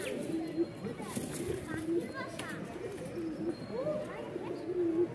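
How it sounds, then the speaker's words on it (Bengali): A pair of fancy pigeons coos nearby in repeated low, throaty, rolling calls, with faint voices and background chatter underneath. "এখানে এক জোড়া কবুতর দেখতে পাচ্ছেন"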